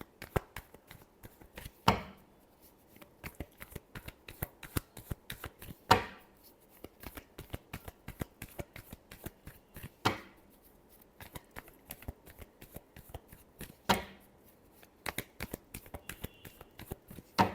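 A tarot deck being shuffled, with rapid crisp riffles of the cards that come in bursts roughly every four seconds, close and fairly quiet, with no talking.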